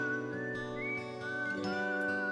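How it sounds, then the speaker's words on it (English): A whistled tune from the video game Wild ARMs 3 plays as a steady melodic line over a sustained musical backing, continuous and moderately loud throughout. "Yeah, it is a whistled version of the tune."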